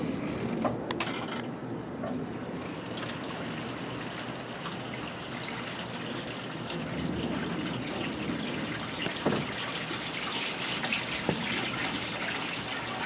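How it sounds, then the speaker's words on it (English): A submersible pump pushes water through a DIY filter for a small fish pond, making a continuous gushing, splashing flow at a fairly constant level, with a few brief clunks and drips on top. "I'm using the submersible pump because that's what I have."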